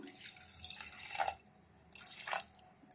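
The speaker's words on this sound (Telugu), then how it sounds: "ఫస్ట్ కొంచెం వాటర్ వేసుకుందాం" Water being poured from a tap into a cooking pot for a brinjal, raw mango and tomato curry, in two quiet splashing bursts separated by a brief pause.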